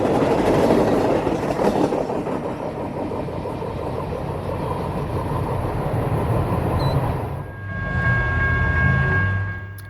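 CSX freight train 201 heading south toward Calhoun and Kingston in northwest Georgia, a loud close rolling rumble and rhythmic wheel clatter of railcars passing, cutting off abruptly near the end into a lower steady drone.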